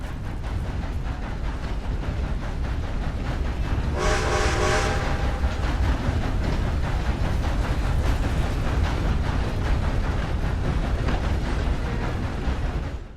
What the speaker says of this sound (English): I hear another train coming into Flatneck Station.